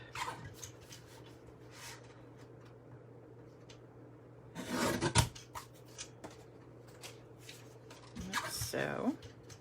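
Scissors snip a small scrap of Calypso coral cardstock in a few short, close cutting bursts over a low steady hum, with quiet handling noise in between.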